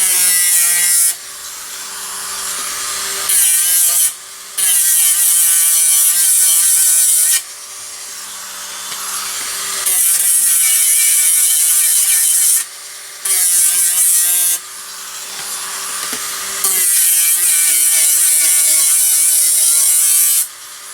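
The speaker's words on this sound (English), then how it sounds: "I got this wire sanding wheel, and I'm doing the edges, the contacting edges." A wire sanding wheel buffs the edge contacts of a 1981 Midway Robby Roto arcade circuit board in repeated loud, whirring bursts of several seconds each, separated by short pauses.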